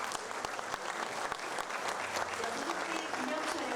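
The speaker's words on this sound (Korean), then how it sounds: "박수 부탁드리겠습니다." An audience at a hospital opening ceremony claps steadily, a dense wash of applause with no break, heard from a moderate distance.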